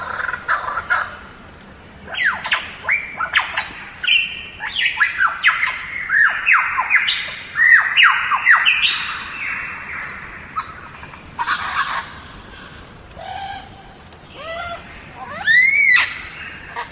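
Lyrebirds in an early Australian radio recording, likely from the 1930s, give a busy run of loud squawking and whistled mimicry calls, with sweeping notes and sharp bursts tumbling over each other against a hissy old-recording background.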